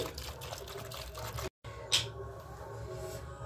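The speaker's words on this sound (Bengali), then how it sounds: "এবারে এর মধ্যে আমি দিয়ে দেব জল" Water is poured into a pot of boiled small new potatoes, making a steady close splashing trickle that lasts a few seconds with a short break partway through.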